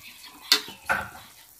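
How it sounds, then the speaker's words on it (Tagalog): Dinuguan base sautéing in a pan, with two sharp clanks or stirring scrapes of a utensil against the pan over a faint background sizzle, heard alone. "Ginisa muna po yan para mas malinamnam."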